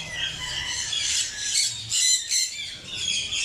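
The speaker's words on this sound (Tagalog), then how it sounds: "Bronze wing pioneer, saka ibang ibon." Bronze-winged pionus parrots and other caged birds making harsh, raspy squawks and chatter. The calls overlap in uneven bursts, fairly close and continuous, with no talk.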